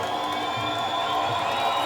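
A football stadium crowd at a Legends Football League game, Austin Acoustic versus Seattle Mist, roars in a steady, dense wash of cheering that holds at a constant level from start to finish, heard from a distance.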